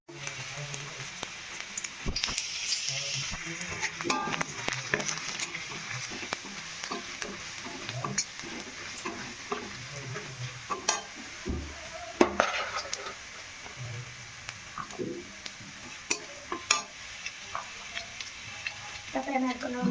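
Spices such as fenugreek seeds fry in hot oil for restaurant-style Odia chilli cauliflower, crackling and sizzling close by with scattered clicks and scrapes of a stirring utensil against the pan.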